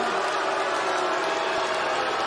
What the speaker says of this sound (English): They're booing and cheering.